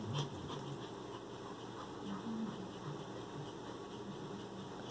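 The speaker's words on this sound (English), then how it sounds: "You can hear him panting." A dog pants rapidly and steadily at close range, a continuous breathy rhythm with a few faint whimpering yips mixed in over a low background hum.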